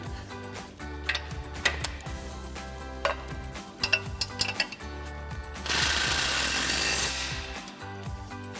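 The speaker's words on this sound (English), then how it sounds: "to tighten these down, we're going to use our 15mm socket on our impact and our 15mm wrench" An impact wrench with a 15mm socket tightens bolts while a suspension lift kit is fitted to a Jeep Wrangler JK. Scattered ratcheting clicks and taps lead into one loud, sustained hammering burst lasting over a second.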